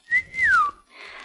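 A person whistles on an old radio broadcast, a clear sustained note that slides downward, followed by faint broadcast hiss.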